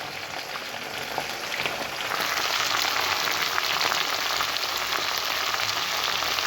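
Spinach greens sautéing in a pan with onion and tomato give a steady close sizzle and crackle that grows a little louder after the first couple of seconds, with no talk over it.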